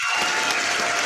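Applause from a small group fills the space with dense, steady clapping, close and fairly loud, lasting about a second with no pause.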